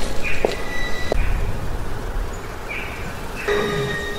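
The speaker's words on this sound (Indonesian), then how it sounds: "mendengar suara jeritan kuda dan para penumpang delman dari arah rawa" Horse neighing near a swamp, two or three shrill whinnies over soft background noise, fairly close and without speech.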